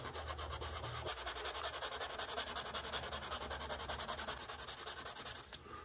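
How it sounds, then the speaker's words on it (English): Suede on an Air Jordan 7 sneaker is sanded by hand in quick, even back-and-forth rasping strokes, close and steady throughout. "we're gonna sand this down till it gets pretty smooth"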